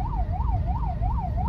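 Ambulance siren wailing in a steady rising-and-falling cycle, loud and close amid road traffic noise, with no voices over it.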